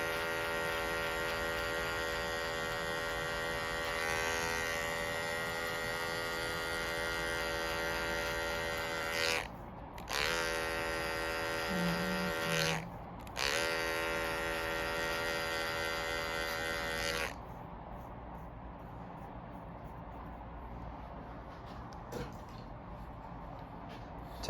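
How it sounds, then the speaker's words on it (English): Hair clippers buzz steadily while cutting a bald fade, the corner of the blade working a dark line, running in three bursts with short pauses before switching off into quiet room hum. "we're going to go ahead and use the corner only of our clipper and just attack that dark line very lightly"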